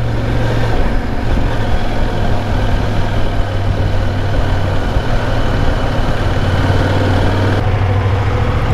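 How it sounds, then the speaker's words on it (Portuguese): A bus passes along a narrow street in Lisbon with a continuous heavy diesel drone, loud and close, holding nearly steady with slight shifts in engine pitch. "O autocarro passa aqui mesmo"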